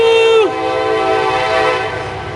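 A train sounds its horn at a railroad crossing: one loud, close blast drops off sharply, then a steady rolling rumble follows.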